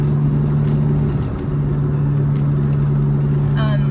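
A 1992 Suzuki Alto Works RS-R kei car drives along a main road, its small engine holding a steady, close droning hum while someone talks over it.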